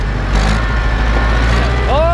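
A Ursus tractor engine drones steadily at close range with a low rumbling tone, rising slightly near the end as it revs to tip a trailer, while voices talk over it.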